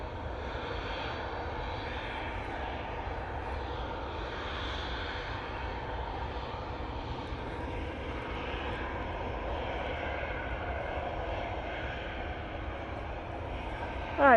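A Qatar Airways jet airliner taking off from Manchester Airport on a windy day: a sustained, moderately distant engine roar running unbroken for the whole stretch, with a brief louder bump at the very end.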